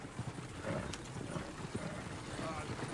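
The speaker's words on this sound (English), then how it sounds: "Oh, shit, the horses!" Horses' hooves clip-clop in the video game Red Dead Redemption 2, a quiet uneven patter under a noisy scene with voices talking.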